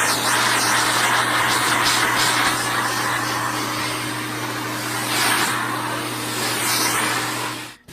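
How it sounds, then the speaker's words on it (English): Vacuum cleaner running over an oil-finished wooden tabletop, a loud continuous motor whine with steady hum and airy hiss, with brief surges as the nozzle moves, cutting off at the end. "So time for a little vacuuming now."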